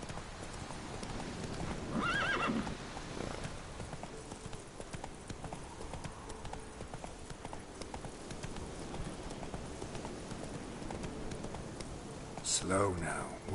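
The horse Roach in The Witcher 3 neighs and whinnies near the start and again near the end. Hoof clip-clop and ambient game noise run underneath at moderate level.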